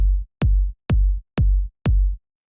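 A standard, bassy kick drum from a hip-hop beat hits five times in an even, steady rhythm, each thump deep and booming with a short click on top, played alone with silence between hits.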